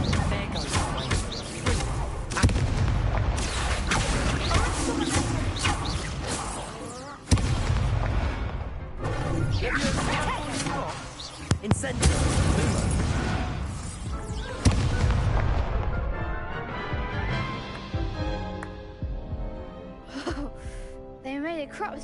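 Incendio fire spell blasts in the Hogwarts Legacy video game, heard as loud, dense bursts and booms layered over busy game audio, with a voice talking throughout.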